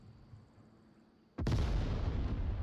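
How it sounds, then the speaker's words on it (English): After a quiet stretch, a grenade detonates sharply in the VR shooter Onward, a sudden loud boom that rolls on into a long rumbling tail. "Early nade coming out, does not find anyone."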